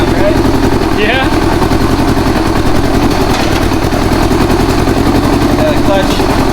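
Engine of an old Honda Goldwing motorcycle running steadily in gear with the rear wheel off the ground, a loud, close, continuous drone with faint voices under it.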